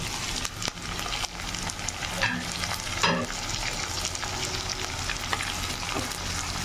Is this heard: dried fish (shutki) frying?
yes